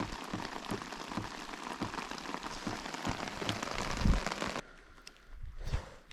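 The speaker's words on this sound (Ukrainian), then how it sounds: "Ще дощ такий падає." Heavy rain pours down steadily at a spring carp-fishing spot, loud and close, with dense drumming and patters on a surface before the noise briefly drops off near the end.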